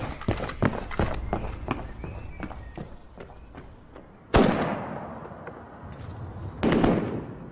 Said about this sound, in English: Most people in the High Street mistake the bursts of gunfire for fireworks